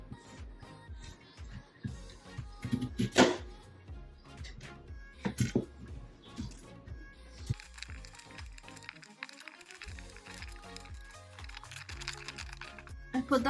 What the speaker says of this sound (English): now I'm going to chop them up into smaller pieces